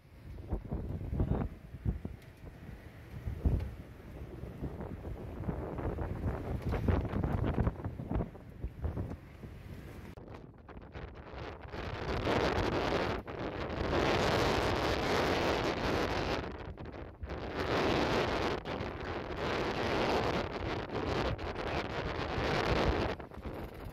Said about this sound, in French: Nous sommes au Pré-Serré, dans 25 nœuds de vent apparent.